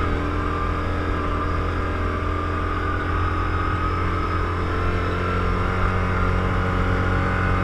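Steady, droning engine of a Yamaha Rhino 700 side-by-side while driving on a new construction site, a strong low hum with harmonic tones holding even and close throughout, no voices.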